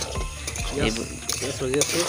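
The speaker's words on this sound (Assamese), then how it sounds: "পিঁয়াজ ভাজি আছোঁ" Onions frying with spice powder: soft sizzling with scraping and stirring clicks from a pan, short and close, with a few faint voice-like tones mixed in.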